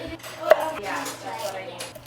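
A knife cuts through Brussels sprouts on a kitchen board, with one crisp, close chop and softer scraping and handling noise around it.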